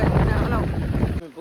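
Wind rushing past the microphone while riding along a road, a loud, steady roar that fills nearly the whole clip before dropping off sharply near the end.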